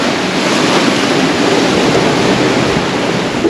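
Wind and waves at sea aboard a sailboat in the trade-wind zone, a loud continuous roar of gusting wind over the microphone and rushing water, with no voices.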